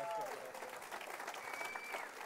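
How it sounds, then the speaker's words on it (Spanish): Audience applause for a guest on a Spanish-language Christian television program, a steady wash of clapping with a voice speaking over the start. "un aplauso a Osman, por favor."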